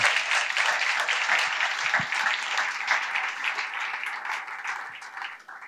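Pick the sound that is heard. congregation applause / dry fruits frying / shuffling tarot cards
congregation applause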